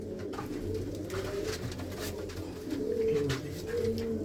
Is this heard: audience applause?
no